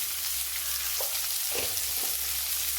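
Beetroot and turmeric powder hitting hot oil with frying onions give a steady, close sizzle throughout, with faint stirring scrapes and no talking.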